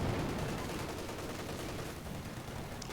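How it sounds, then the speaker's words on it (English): Battle gunfire in the strategy game Company of Heroes 2, a continuous dense rattle of distant small-arms and machine-gun fire, fairly faint and steady without pauses. "We'll be shooting these guys up."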